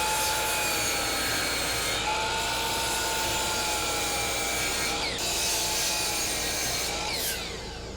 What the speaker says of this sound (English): I'm gonna go ahead and rough cut them